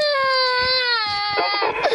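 A teething baby boy cries in a sustained, high, wavering wail that breaks into choppy sobs near the end, close and fairly loud, with an adult voice murmuring softly underneath.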